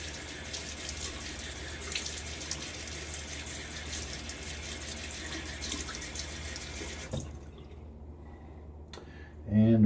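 Water runs steadily from a tap for a rinse after a shave with a razor, a faint continuous splashing hiss that stops near the end, followed by a brief clatter.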